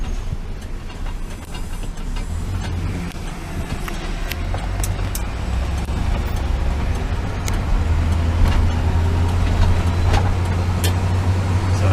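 A 1975 Oldsmobile Vista Cruiser with 270,000 miles, hesitating under half throttle while driving in Montreal: a steady low engine drone with road rumble heard from inside the cabin, fairly loud and continuous.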